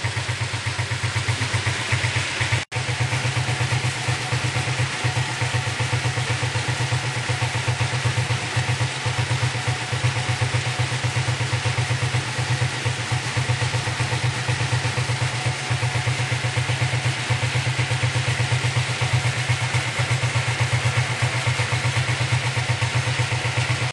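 A Suzuki Smash 115 motorcycle fitted with a piston-type carburetor idles steadily, an even low putter with light mechanical clatter, close and continuous throughout with no talk.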